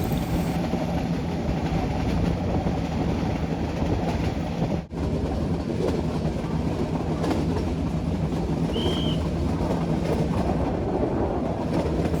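A metre gauge train running on the line from Junagadh to Sasan Gir, with steady rumbling wheel and carriage noise throughout, heard from on board, with a brief dip midway and a faint squeal later.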